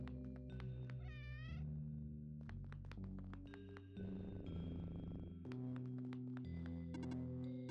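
A game cat in OneShot World Machine Edition gives a wavering meow early on, then a few brief chirps and blips over continuous looping background music.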